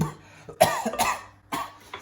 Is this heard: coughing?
yes